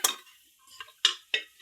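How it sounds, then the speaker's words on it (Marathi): A pressure cooker is rinsed and handled at a kitchen sink, with a few sharp metallic clinks and knocks spaced apart, close and fairly quiet, with no talking. "कुकर असं धुवून टाकायचं बरं का."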